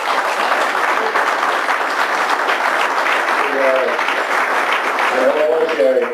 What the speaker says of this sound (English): clapping because you're a little up there in the age